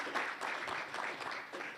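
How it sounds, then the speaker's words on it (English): Brief, fairly faint round of applause from colleagues at a school leadership project gathering, with a steady patter of clapping and no voices. "Another round of applause for Mike."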